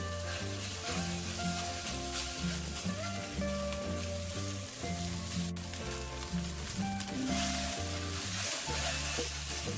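Rice noodle rolls fry in a non-stick wok for a soy sauce stir-fry, giving off a steady, continuous sizzle over tonal background music.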